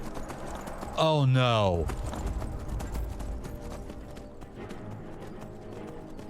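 Hoofbeats of a horse in Skyrim thud steadily through the clip in a dense game soundscape, with a man's brief dismayed exclamation near the start, a loud tonal burst around one second, and continuing game sounds behind.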